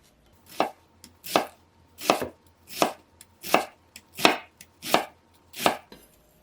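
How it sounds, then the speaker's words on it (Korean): Knife chopping an onion into small pieces on a board, about ten evenly spaced crisp thuds close up, with no talk. "양파는 작은 크기로 써세요."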